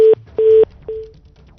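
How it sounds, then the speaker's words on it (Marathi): A phone call drops during a live Marathi news report on traffic on the Mumbai Pune Expressway, followed by three short, loud electronic line tones in a steady beep pattern, the last fading. "बहुधा त्यांचा फोन कट झालेला आहे"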